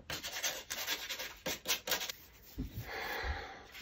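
Rubbing and scraping of an abrasive tool such as an emery board or sandpaper wrapped on a block, roughing up the pages of a collaged fabric journal, in short close bursts of gritty friction that settle into a steadier scuff.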